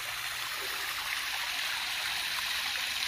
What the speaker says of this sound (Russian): Видимо, все-таки это река. Течет.